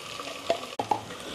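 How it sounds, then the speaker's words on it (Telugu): Grated coconut tossed into hot oil in a pan for mutton boti curry, a brief close sizzle with a couple of stirring scrapes, short and moderately loud with no talk. "ఇక ఇప్పుడు కొబ్బరి వేసుకుందాం నూనెలనే వేసుకోండి"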